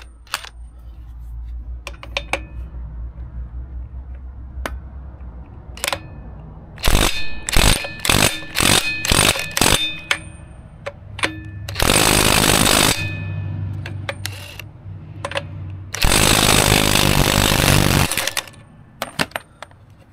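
A power tool works the two big bolts on a Daytona floor jack, firing off loud, rapid ratcheting bursts and longer buzzing runs with pauses between them, all close up and with no talking.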